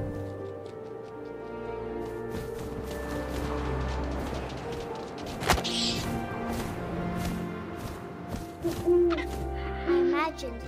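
An owl hoots in the video game What Remains of Edith Finch, over steady wind and game ambience, with a sharp crash midway and brief bright calls near the end.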